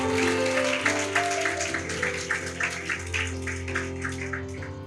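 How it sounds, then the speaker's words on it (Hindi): A church congregation claps together in a steady rhythmic beat over a sustained backdrop of music, loud and continuous throughout. "तो जोर से ताली बजा सकते हैं यीशु के लिए"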